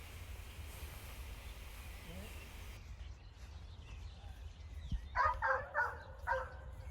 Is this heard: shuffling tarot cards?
no